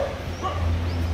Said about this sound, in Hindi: दोस्तों आप कुत्ते देख सकते हैं कैसे दौड़ रहे हैं इधर।